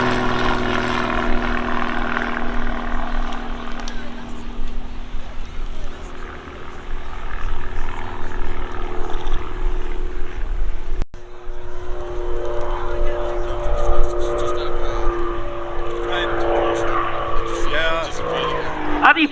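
An RAF Grob Tutor propeller aircraft flies an airshow display, its buzzing engine drone rising and falling as it manoeuvres, heard at a distance beneath a commentator's voice.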